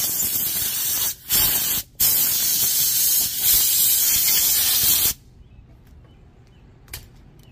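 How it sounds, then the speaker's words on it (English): Aerosol cleaner sprays in loud, steady hissing bursts into a Briggs & Stratton 5HP engine carburetor, with two brief pauses before a long blast that cuts off, then quiet with a faint click. "Spray the dirt out."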